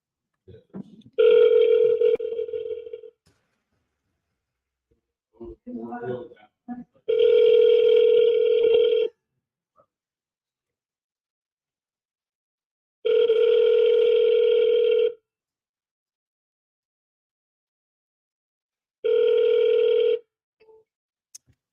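An outgoing phone call rings unanswered: a steady two-second ringback tone repeats four times with long silent gaps between, and a brief murmur of voice falls between the first rings.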